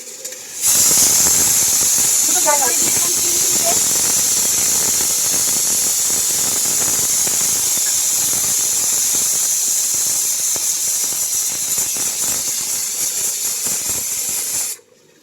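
Onions frying with ginger-garlic paste in a pan, a loud continuous hiss and sizzle that starts abruptly and holds steady for about fourteen seconds before cutting off, with faint clinks early on and no talking.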